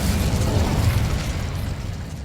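Incendio fire spell in Hogwarts Legacy, a loud close whooshing burst of flame with a low rumbling roar that fades over about two seconds.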